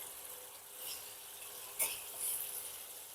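Coriander paste and spices frying in a pan for a tilapia curry, a soft steady sizzle with a brief sharper crackle near the middle, close and fairly quiet, no voices.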